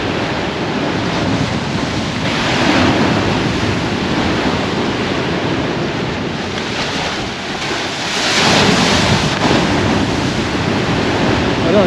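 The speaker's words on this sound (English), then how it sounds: "the waves are absolutely battering the cliff now" Sea waves batter a cliff on the Holderness coast at Aldborough, a loud continuous surf roar swelling in surges, with heavy wind buffeting the microphone throughout and no talking.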